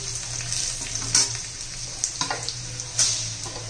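Garlic and green chillies frying in a pan, a steady close sizzle with a few sharp clinks and scrapes of stirring.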